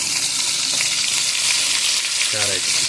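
Brinjal being sautéed in oil in a home kitchen, a loud continuous hiss of frying that holds even throughout, with a brief tonal sound near the end and no speech.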